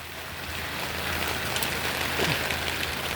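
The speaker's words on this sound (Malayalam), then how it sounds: "നേപ്പാളിൽ മഴയാട്ടോ" Rain falls steadily in Nepal, a dense, even hiss of drops on surfaces that holds at a constant moderate level throughout, with no voices.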